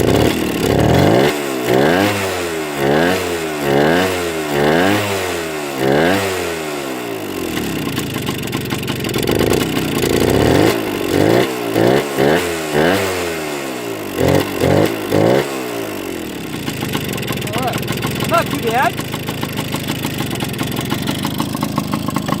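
A Suzuki TS125 motorcycle with freshly adjusted carburetor cranks and fires up, a series of rhythmic kick-start attempts catching before settling into a steady close idle, with a few blips of revving near the end.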